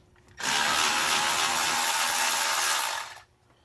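A Milwaukee 12V cordless ratchet zips a bolt off an old water pump, a loud, close, steady whirring burst lasting about three seconds with an abrupt start and a quick wind-down.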